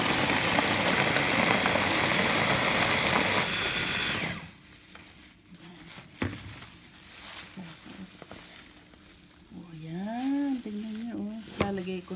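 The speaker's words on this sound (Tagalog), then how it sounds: "Tapos i-blender natin. Tignan nyo itong blender ko, ibang-iba." An electric blender whirs loudly and steadily as it purées garlic and chili for a dipping sauce, then stops, leaving a quieter room where a voice speaks.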